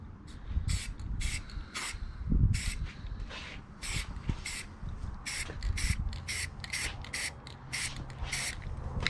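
Spray paint can applying a coat to Jeep metal parts, a series of short hissing bursts, a dozen or so, some longer than others, fairly close over faint background rustle.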